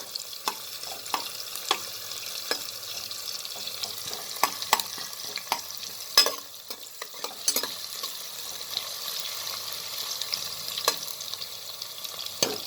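Onion and chilies fry in a pan for ghee rice, a light steady sizzle with frequent sharp clicks and scrapes of a spoon stirring, close up and free of talk.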